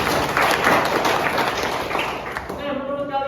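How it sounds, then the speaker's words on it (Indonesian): A classroom of students claps in a brief dense burst that fades after a few seconds, giving way to a voice speaking near the end. "beri tepuk tangan dulu dong"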